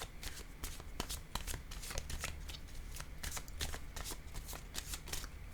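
A deck of playing cards shuffled close by, with rapid repeated riffling bursts in a steady rhythm and no talk.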